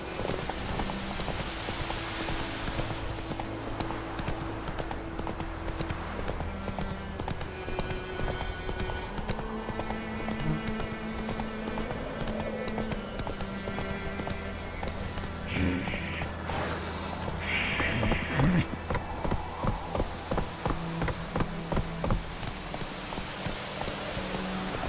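Roach the horse gallops in The Witcher 3, steady rapid hoof clip-clops running throughout under a dense bed of game music and ambience.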